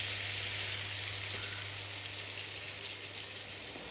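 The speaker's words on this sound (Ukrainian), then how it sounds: "Після того, як крильця підсмажились, заливаю маринад, в якому вони маринувались." Marinade hits a hot pan of frying chicken wings, producing a steady, dense sizzling hiss that holds loud and even throughout.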